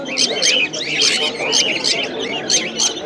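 Caged birds at the Krishnagar bird market chirp and call in quick repeating bursts, loud and close, forming a busy continuous chorus.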